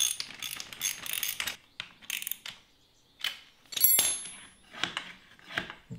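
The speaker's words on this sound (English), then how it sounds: "you can go ahead and tighten those up right away. 7/16 inch socket and wrench is all you need" Bolts tightened with a 7/16 inch socket wrench during assembly of a Yard star spreader, close, crisp ratcheting clicks in uneven bursts with brief pauses and a few metallic clinks.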